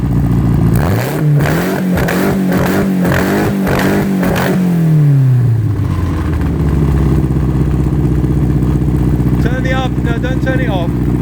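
A car engine with rebuilt Italian Dellorto DHLA 45 Tri-Jet carburettors revs hard in several loud blips, then drops to a rough, steady idle while people talk nearby.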